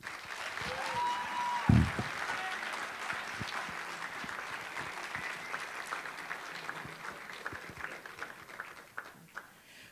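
Applause from a high school audience honoring student athletes at a winter sports signing event, a steady crowd of clapping hands lasting throughout with a brief louder thump near the start.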